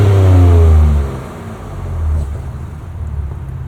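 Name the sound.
Ford Ranger Raptor engine revving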